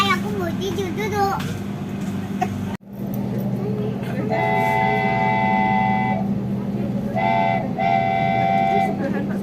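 Inside a passenger train carriage of the airport rail link from YIA toward Malioboro, a steady rumbling cabin hum runs throughout while children's voices and chatter sound nearby, with a brief dropout and a sustained high electronic tone partway through.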